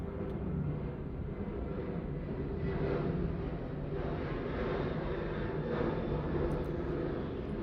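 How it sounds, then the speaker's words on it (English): A fixed-wing airplane flies overhead, its steady broadband engine drone filling the whole span at a constant, moderately loud level with slow swells, with no talking. "noticing the sound of the airplane flying above"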